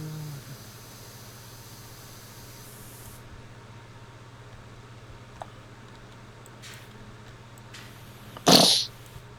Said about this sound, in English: oh, that's just a cat